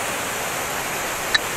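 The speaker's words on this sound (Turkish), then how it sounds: "Şelale bir şekilde vuruyor." A waterfall among ruined stones rushes in a steady, broadband roar that holds level throughout, with a brief faint chirp near the end and no speech.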